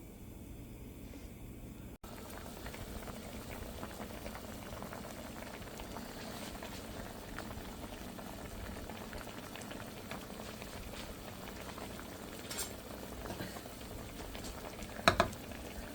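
Hilsa fish curry with pumpkin comes to a boil in a pot, an unbroken close bubbling and simmering that runs throughout, with a brief clink of a utensil near the end.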